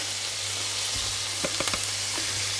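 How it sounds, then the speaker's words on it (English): Onions sizzle steadily in a hot pan, a constant frying hiss with a few soft clicks and taps of utensils. "it's been around 5 minutes that the onions have been frying away"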